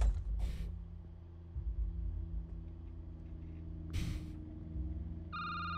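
A telephone rings in a night-shift security booth in a horror video game, with a bright electronic trill near the end over a low mechanical hum and a couple of brief noisy bursts.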